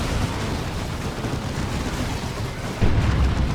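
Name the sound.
Wraith Cannons firing in Dawn of War 2 video game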